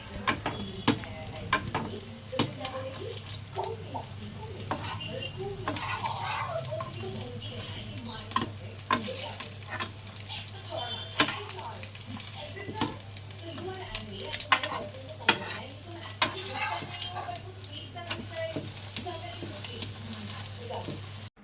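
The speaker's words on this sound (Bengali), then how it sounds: "ওর জন্য আলাদা করে অমলেট ভেজে দিচ্ছিলাম" Low steady sizzle of an omelette frying in a pan, with occasional scraping and clinks of a spatula stirring.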